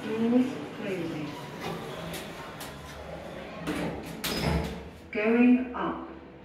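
Shopping centre lift doors rumble shut with a soft thud, while brief voices come and go around them.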